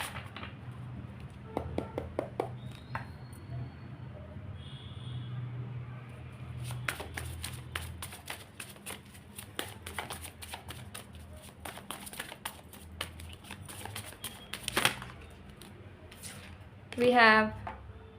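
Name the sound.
shuffling tarot cards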